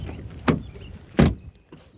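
The rear door of a 2022 BMW i4 electric car is closed twice in quick succession, giving two close, solid, muffled thuds about a second apart.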